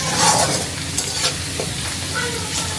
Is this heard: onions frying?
yes